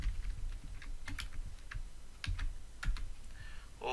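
Quick, irregular key clicks on a computer keyboard as a label caption is typed into a VB6 form, close and dry, with no talking.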